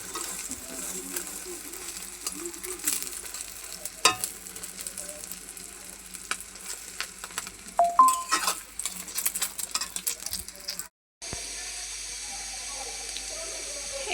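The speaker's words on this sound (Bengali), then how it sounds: "এই যে এখন ডিম ভেজে নিতেছি।" Eggs frying in a pan, a steady low sizzle with scattered clinks and running-water-like noise, close by, before a brief drop to silence and a hissy tail.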